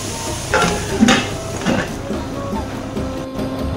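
Onions frying in a pan for biryani, stirred with a utensil: a steady sizzle runs underneath while a few scraping, clinking strokes against the pan stand out near the start, close and moderately loud.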